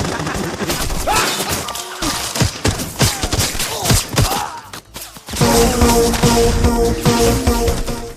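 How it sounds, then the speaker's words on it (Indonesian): Gunfire bursts from a film's heist action scene, with rapid shots and thuds crackling irregularly amid crashes and impacts, then a denser burst with sustained tones and effects near the end. "Tembak-tembakan lagi."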